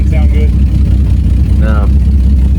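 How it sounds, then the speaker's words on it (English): A Ford Maverick car engine with carburetor issues runs steadily up close with a deep, rough rumble from an exhaust leak, a faint voice briefly audible beneath it. "The exhaust leak doesn't sound good."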